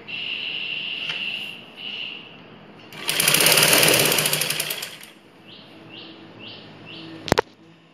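A sewing machine runs a close pressing seam on a ladies' blouse, a loud steady whir lasting about two seconds in the middle, with quieter handling and clicks before and after.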